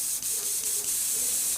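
An airbrush blasts cleaning water back through its nozzle in a steady, close hissing spray that runs unbroken for under two seconds.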